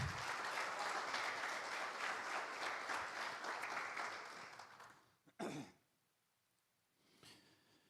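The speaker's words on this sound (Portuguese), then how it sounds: "Aplauda Jesus, irmãos." A church congregation claps together for about five seconds, a dense, close burst of applause that fades out, followed by a brief cough and near silence with a faint rustle near the end.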